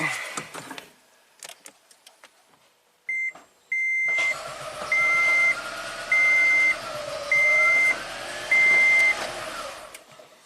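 A Toyota Prius engine, its ignition coils removed, cranks steadily for several seconds without catching, while a car warning chime beeps in an even repeating rhythm over it.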